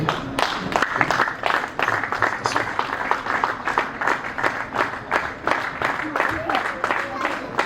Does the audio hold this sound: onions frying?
no